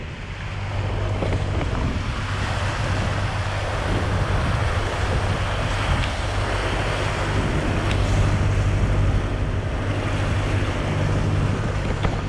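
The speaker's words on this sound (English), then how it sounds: "we have been rewarded with wind" Strong wind rushes over a sailboat moving through a channel between New Zealand islands, a loud continuous roar with buffeting on the microphone and water washing against the hull beneath, no one speaking.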